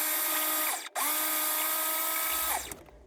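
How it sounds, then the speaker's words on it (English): A food processor whirs at high speed while blending oats into gluten-free oat flour: a loud, steady motor whine that cuts out briefly, spins back up, then winds down near the end. "I next take a bag of oats and put it in the food processor to blend to create a gluten-free oat flour"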